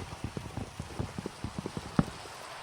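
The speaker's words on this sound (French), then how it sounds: "Ah, il pleut là-bas, c'est pour ça." Rain falls in the video game Minecraft, heard as soft, scattered droplet taps in an uneven patter. It stays faint and close, with one slightly louder drop near the end.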